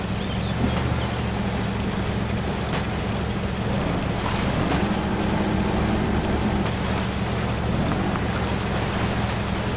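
A heavy off-road truck wades through water in the MudRunner video game, its engine drone steady and loud under continuous splashing and rushing water, with a rising engine tone partway through.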